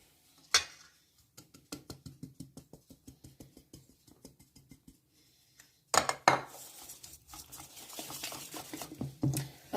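Banana bread batter being mixed in a bowl gives a quick, regular series of soft spoon taps and scrapes, followed by louder clattering knocks against the bowl near the end.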